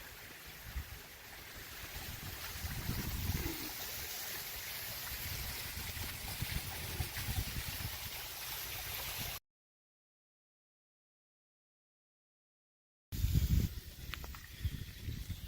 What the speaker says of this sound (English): Bye-bye, waterfall.